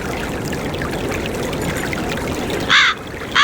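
Water pouring continuously in Black Mirror 3 near steps leading down behind a hotel to a river, a close, steady splashing stream, broken near the end by a few loud cawing crow-like calls.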